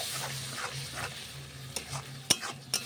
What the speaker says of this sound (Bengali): এইবার ভালো করে নাড়াতে হবে